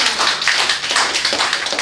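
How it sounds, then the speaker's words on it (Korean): Applause from a church audience at a special lecture, a steady dense patter of many hands clapping together for the whole stretch, fairly loud and close, with no talk over it. "우리 한번 박수 쳐드립시다."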